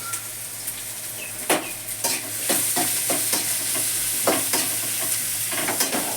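Onions and green chilies fry for squid thokku, a steady sizzle punctuated by several sharp spatula knocks and scrapes against the pan, close and fairly loud, with no speech.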